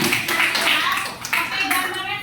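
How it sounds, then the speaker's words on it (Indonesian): Short burst of classroom applause from vocational school students, brisk and busy clapping with some chatter mixed in, pausing briefly midway before resuming. "Oke, tepuk tangan dulu untuk"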